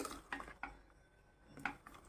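A large spoon stirs raw mango pieces and sugar in a pot, giving faint scrapes and soft knocks against the metal in a few spaced strokes with quiet gaps between.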